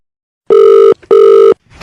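A telephone rings during a comedy radio prank call, with two loud, steady electronic rings separated by a short gap and a faint voice starting just after.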